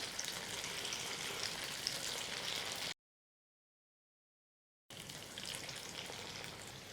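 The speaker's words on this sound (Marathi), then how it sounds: "तेल तापेपर्यंत आता भजी सोडूया आणि हे ओबडधोबडच सोडायची" Corn pakoda batter fries in hot oil, a steady quiet sizzling crackle that cuts to silence for about two seconds midway, then resumes at the same level.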